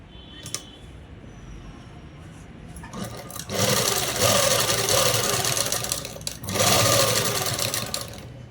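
A sewing machine runs a top stitch along the folded-in edge of a dress made from five meters of cloth, starting after a quiet pause and whirring loudly and steadily in two long bursts separated by a brief stop.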